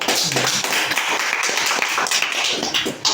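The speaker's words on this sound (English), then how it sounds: "The press, I think they deserve a round of applause." Dense applause from an audience at a Lagos Lawn Tennis Club media parley, close and loud, a continuous rapid patter of many hands clapping without pause.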